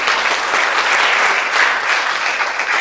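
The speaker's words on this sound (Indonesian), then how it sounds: "Tepuk tangan bagi Tuhan." A church congregation applauds during a worship service, a dense, steady wash of many hands clapping at close range, loud and sustained throughout with no talk over it.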